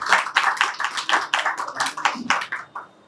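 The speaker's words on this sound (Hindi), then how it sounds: "एक बार पूरी दीवानगी की टीम के लिए जोरदार ताली होनी चाहिए" A live audience at a storytelling and music gathering claps in a brisk, fairly close burst of applause that fades out after a few seconds.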